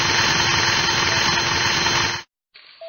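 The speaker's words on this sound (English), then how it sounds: "A hole must be drilled inside the femur to set up the distal femoral cutting jig and alignment" A surgical drill bores a hole into the femur during a knee surgery video game, a steady loud whirring drone that cuts off abruptly, then resumes briefly at lower level.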